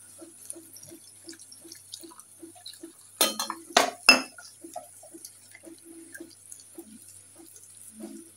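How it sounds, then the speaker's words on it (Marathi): Water poured into a pan of garlic frying with asafoetida in oil for a surmai kingfish curry, a loud rushing splash lasting about a second amid steady sizzle and soft clinks of utensils. "आता याच्यामध्ये पाणी घालून घ्यायचंय।"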